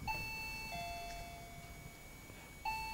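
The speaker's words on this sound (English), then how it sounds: "there goes the bell." A quiz show bell rings twice, each a clear sustained chime with a ringing tail, the second starting shortly after the first and a third strike at the end, over quiet background hiss.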